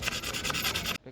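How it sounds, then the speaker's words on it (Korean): 180-grit sandpaper rubbed by hand in quick back-and-forth strokes, giving about nine close, even rasps over one second before stopping abruptly. "180방 사포로 일단 어느 정도 균일해질 때까지 자른 흔적이 안 보일 때까지 굵은 사포로 이렇게 갈아주겠습니다"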